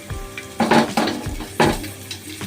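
Whole spices, cardamom pods split open along with cinnamon and cloves, sizzle in hot oil in a pan for pressure-cooker fried rice, with loud bursts of crackling as each batch goes in, plus a few clinks of utensils against the pan.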